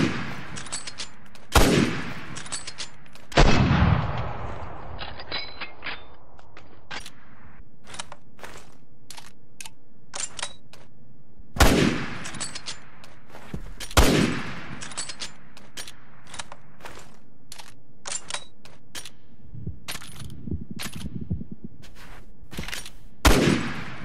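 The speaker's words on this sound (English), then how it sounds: "The first one is just the plain-ass sniper rifle." Bolt-action sniper rifle firing in Resident Evil 6, several loud, sharp single shots spaced seconds apart, each with a decaying tail, interspersed with clicks of reloading the bolt and faint background game noise.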